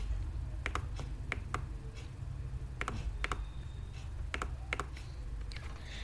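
Fingers typing code on a computer keyboard, sharp clicking keystrokes in irregular short bursts and pairs, close and clear over a low steady hum, with no talk.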